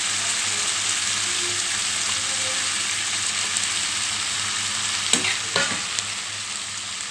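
Onion pieces frying in oil in a pan, a steady close sizzle running throughout, with a few sharper clatters of a utensil stirring near the end.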